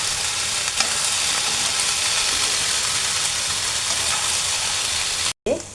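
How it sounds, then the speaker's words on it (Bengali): A thickening soybean curry is stirred in a pan after a cornflour slurry goes in, giving a steady close scrape and sizzle that runs without a break and then stops abruptly near the end. "কর্নফ্লাওয়ার গুলিয়ে নিয়েছিলাম, সেটা দিয়ে আমি ভালো করে একটু নাড়া দেব।"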